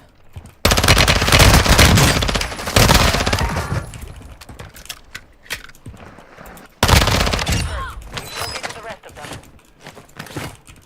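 A machine gun in Warzone 2 fires long loud sustained bursts, close and dense, with a second burst later and scattered shots and clatter between, while someone talks at points.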